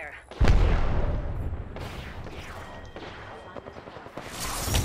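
Gunfire in a first-person shooter video game: a loud burst of shots followed by rapid, echoing cracks and booms, then scattered shots rising again near the end, with players talking over the action.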